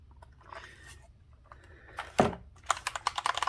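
Typing on a CIDOO ABM084 tri-mode hot-swap mechanical keyboard with TTC Gold Pink switches: a few scattered keystrokes, then a fast, close run of crisp clacks toward the end.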